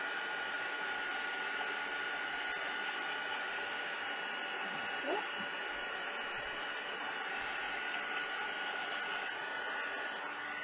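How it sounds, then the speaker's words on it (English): A heat gun sets gold embossing powder with a steady, close, continuous blowing hiss and fan drone that stays level throughout, with a faint tap or two beneath it. "just go with my heat gun over here to set the embossing powder"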